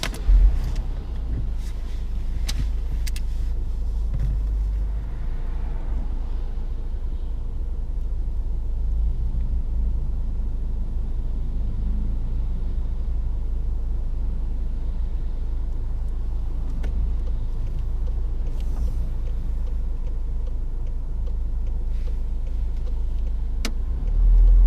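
Steady car engine rumble and road noise from inside a moving car pulling away on a mock driving test in Derby, UK, with a continuous low drone throughout and no voices.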